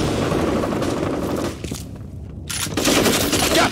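Gunfire and a grenade blast in FEAR combat, dense rattling automatic fire, a brief lull, then another loud explosive burst of shots and debris, close and harsh.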